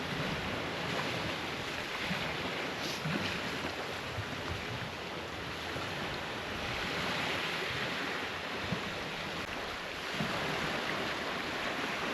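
Steady wash of Pacific Ocean surf on a beach in the Yasawa Islands, Fiji, with wind rumbling across the microphone, a continuous broad roar with gentle swells in loudness.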